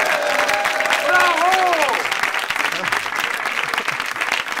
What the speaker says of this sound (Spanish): Un aplauso para Ignatius Farray